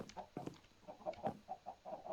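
A chicken clucks in a run of short, separate calls, moderately quiet and close by, with no talk around them.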